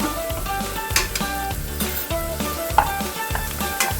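Ginger garlic paste fries in a pan for masala egg curry, a close steady sizzle broken by rhythmic spatula scrapes and knocks against the pan, repeating every half second or so, with no talking.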